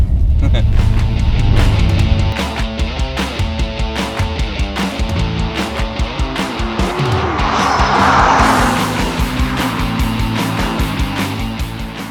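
A Nissan GT-R 50th anniversary edition sports car engine rumbles steadily, with harmonic tones rising and falling as it revs and changes gear, loud and close throughout.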